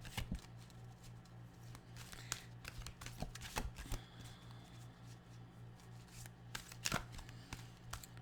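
Tarot cards are shuffled close by in a quiet room, producing soft, irregular riffling and tapping bursts over a low steady hum, with no talk.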